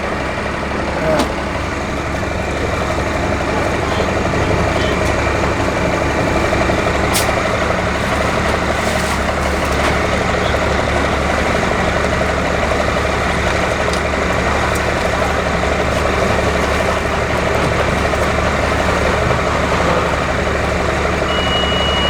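A truck engine at the Lake Havasu boat ramp strains steadily to haul a boat up the ramp, a constant low drone with occasional brief clanks, while people talk nearby.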